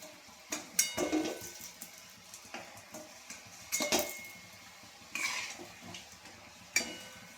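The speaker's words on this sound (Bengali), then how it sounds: "এই কটা আমি একটু লাল লাল করে ভাজবো" Chira pitha, flattened rice cakes, frying in a pan, with metal utensils clinking and scraping against it in scattered, irregular knocks over a faint steady sizzle.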